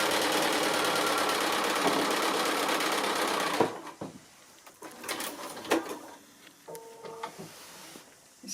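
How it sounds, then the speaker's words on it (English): A sewing machine runs at steady speed stitching the last side onto a quilt block, a dense continuous whir that stops partway through, followed by quiet handling clicks and rustles. "Just sewing the last of the 4 sides on"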